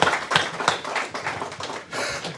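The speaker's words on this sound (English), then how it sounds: "Let's give both boxers a round of applause, please, guys" A small crowd at a press conference for a boxing fight claps for both boxers, an uneven patter of hand claps from a handful of people, close and moderately loud without talk.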